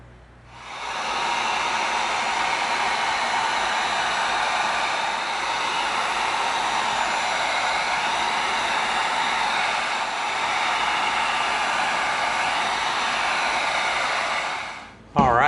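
Heat gun heat sealing an EVA foam mace, a steady continuous blowing hiss that starts after a second, holds evenly and loud for about thirteen seconds, then cuts off.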